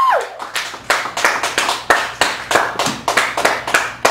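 Audience clapping after a poetry open mic introduction at a Chicago café gallery, a close, brisk burst of hand claps in an irregular rhythm with a whoop at the start, lasting a few seconds.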